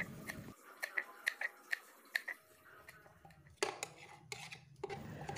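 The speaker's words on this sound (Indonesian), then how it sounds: "di sini aku memakai beberapa tangkai daun bawang, kemudian ini diiris kecil-kecil seperti ini" A knife slices spring onion stalks into small pieces on a cutting board, a quick series of sharp, evenly spaced taps, then a few louder scattered knocks, close and fairly quiet.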